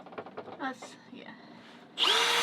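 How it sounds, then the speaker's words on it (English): A power drill fitted with a larger bit starts up loudly near the end, following a stretch of speech, with a steady high whine as it bores into the material. "take a bigger drill bit. I'll drill 2 holes."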